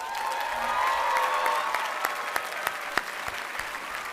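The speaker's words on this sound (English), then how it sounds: "Let's give them a round of applause." Graduation-day crowd at Cushing Academy's commencement applauding the class of 2025, a sustained, fairly distant wash of clapping with a few sharper claps standing out.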